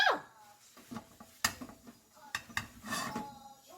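A frying pan is wiped clean in a home kitchen, giving faint scraping and light metallic clinks and knocks spaced out over a few seconds, close by in a quiet room.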